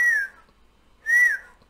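Two short rising-then-falling whistles from a human, imitating a rocket's whoosh, separated by a brief pause, clear and close.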